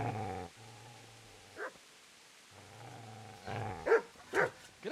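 Dog in the medieval game Kingdom Come: Deliverance growls in two long low stretches, followed by a few sharp barks and yelps near the end, close and clear.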